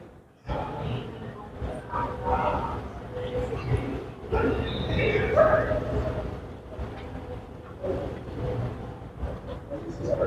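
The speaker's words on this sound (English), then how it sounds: "Is that my dog in there?" A dog barks and whimpers nearby, with yips and whines rising and falling throughout while people talk over it.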